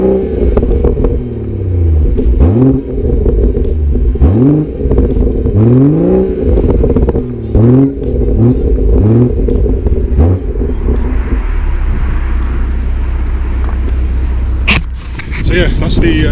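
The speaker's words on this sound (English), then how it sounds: "Just going to give you some revs and just see if you can pick that up." A BMW M140i engine is revved repeatedly in short rising and falling bursts, loud and close, followed by a steadier idle rumble and a brief clatter near the end.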